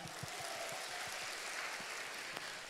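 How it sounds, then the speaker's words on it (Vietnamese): Quiet applause from an audience at a personal development talk, a dense patter of clapping that stays even and fairly distant throughout, with no voices over it. "Cho một tràng pháo tay ạ"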